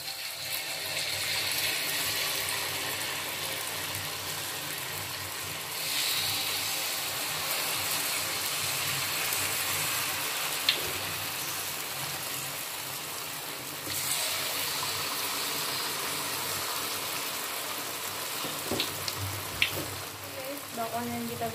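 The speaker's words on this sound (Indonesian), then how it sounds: "Kita masukkan adonan bakwan, kita goreng sekarang." Continuous crackling sizzle of corn fritter batter deep-frying in hot oil, steady and moderately loud, with a few sharp pops and light clinks.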